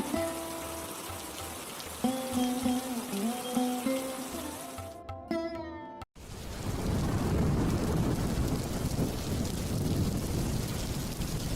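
Cartoon rain and thunder follow a stretch of animated speech and music: after a brief cut to silence, a dense, loud wash of heavy rain with rumbling thunder fills the rest.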